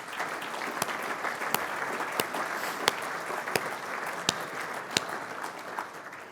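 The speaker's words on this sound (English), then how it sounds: "Please join me in a round of applause for all of our partners." A crowd at a football club's season launch applauds its partners, with steady, even clapping and a few sharper claps standing out, at moderate loudness with no voices.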